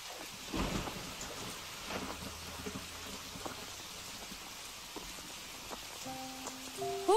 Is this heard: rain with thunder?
yes